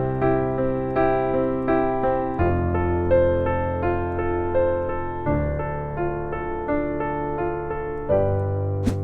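Piano chords played with octaves doubled in the left hand, a steady sequence of sustained, full-sounding chords changing every second or so, clear and alone.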